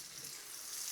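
Tinned potatoes sizzle in a pan of garlic butter and rosemary, a steady, faint, hissing crackle with no talk over it.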